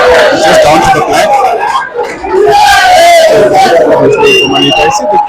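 A snooker crowd watching a match between Aden Joseph and Stanford Ginte erupts in loud cheering and excited shouting, rising in two close surges with a brief dip between them.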